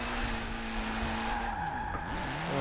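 Car tires skidding during a handbrake drift in a grip-and-drift driving challenge, a loud continuous squeal over engine roar that shifts pitch as the slide changes.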